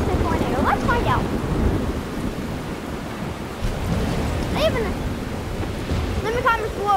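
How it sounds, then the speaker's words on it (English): Heavy rain with rumbling thunder in the video game Life Is Strange, a constant dense roar with low rolling booms, while scattered voices or game sounds break through on top. "Sounds like it's raining hard enough for it to be a tornado."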